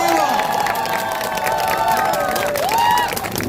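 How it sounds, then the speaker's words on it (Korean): An outdoor election rally crowd in Cheonan claps and cheers for a National Assembly candidate, a loud, sustained mix of applause, shouts and raised voices close by. "천안발전 더 큰 공약 우리 이정문 후보에게 큰 박수 한번 다시 부탁드리겠습니다."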